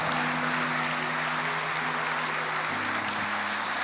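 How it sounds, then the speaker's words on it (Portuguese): A church congregation applauds in a worship service, a steady wash of clapping filling the room for a few seconds, with faint tonal hum underneath and no voices on top. "A igreja aplauda o Senhor"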